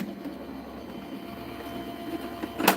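A home printer runs in a quiet room, a steady low mechanical whir with faint rhythmic clicking that ends in a brief louder feed sound near the finish.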